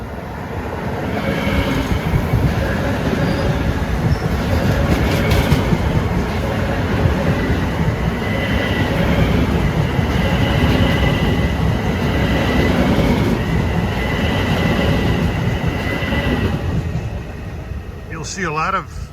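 An eastbound Long Island Rail Road equipment move, likely M9 cars, roars past New Hyde Park station in a loud, steady, close rush of wheels and rail noise lasting throughout, with a faint squeal near the end.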